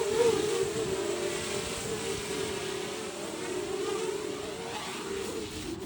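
A 3D printed ESP32 drone with 3D printed propellers flying nearby, a steady buzzing motor whine that holds for the whole stretch with slight wavering pitch.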